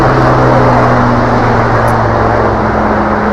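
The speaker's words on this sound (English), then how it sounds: "Or actually, that's a helicopter." Loud, steady droning rumble with a low engine hum, like a helicopter passing overhead, filling the whole moment without voices.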